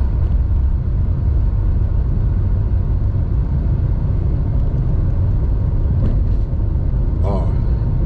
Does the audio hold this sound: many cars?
yes